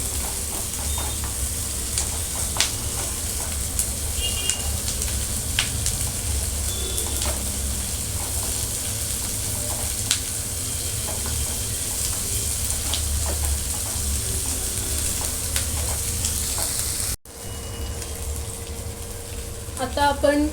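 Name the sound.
onions sautéing in pan for gravy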